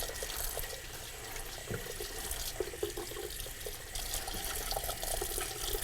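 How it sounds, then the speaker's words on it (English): Cold tap water pours steadily into a stoppered kitchen sink, a continuous bright hiss and splash with small gurgles as it fills, no voices. "I'm going to fill the sink with cold water,"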